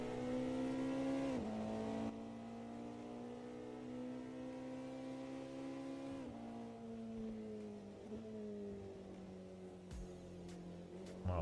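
A race car engine in the video game Automobilista 2 drones steadily, its pitch dropping at gear changes and rising again, with a brief sharp rev near the end.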